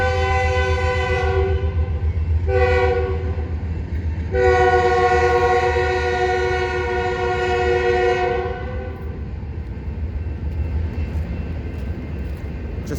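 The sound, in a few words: train passing with horn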